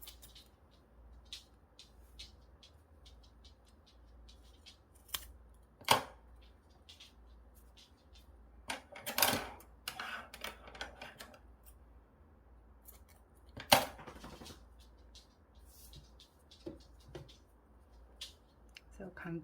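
Scissors snipping short macramé cords while making a card wallet: a few sharp isolated cuts spread out over quiet handling noise, close and moderately loud.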